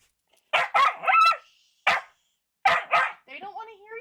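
A puppy lets out a run of short, sharp yips and barks in quick clusters, close by, ending with a few high whining whimpers, with no other noise between the bursts.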